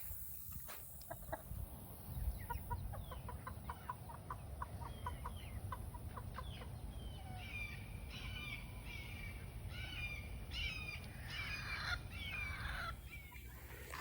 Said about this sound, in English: here I got a bantam white crested blue pair